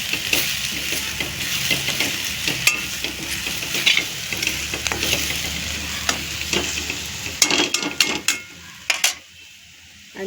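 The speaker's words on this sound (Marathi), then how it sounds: "हे सगळं टाकून पुन्हा मिक्स करून घ्यायचं आहे सगळे साहित्य" Turmeric, garam masala and other spices being stirred into a sizzling frying pan for a soybean vegetable dish, with a steady fry hiss, frequent scraping strokes and a few sharp clinks before it quiets near the end.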